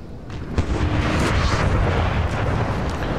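Cannon fire in a Napoleon Total War 3 game battle, a dense rumble of booming artillery with overlapping blasts, loud and continuous with no voice.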